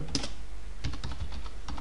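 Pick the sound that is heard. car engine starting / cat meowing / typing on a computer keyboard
typing on a computer keyboard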